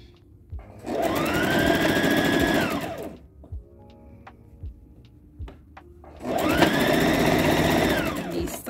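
A sewing machine runs a straight stitch while sewing a child's underpants, in two loud, steady bursts of fast mechanical whirring, each about two seconds long, separated by quiet handling clicks as the fabric is repositioned.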